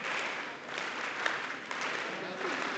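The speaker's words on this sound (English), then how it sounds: "I want you to keep clapping" An audience clapping steadily at a talk, a soft, continuous patter of many hands heard from a distance, with a few sharper claps standing out.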